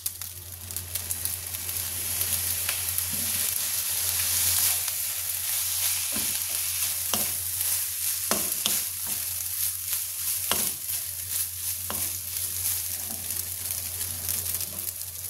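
Rice sizzles loudly in a pan as it is stir-fried with soy sauce and leftovers, the steady close frying hiss broken by frequent scraping stirs and light knocks.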